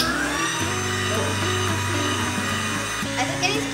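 An electric hand mixer whirs steadily as it whips dalgona coffee in a home kitchen, a close, continuous motor drone with slight shifts in pitch and someone talking over it.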